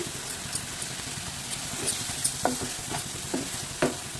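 Fish frying in oil in a pan for a fish curry sizzles steadily and close, with irregular spatters and pops throughout and no speech.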